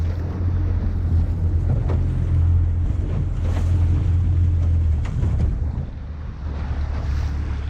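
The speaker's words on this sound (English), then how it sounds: "Look at these waves, Dave." Huge ocean waves surge and wash around a boat in a loud, continuous roar, with heavy low engine or wind rumble and gusty noise throughout and no speech.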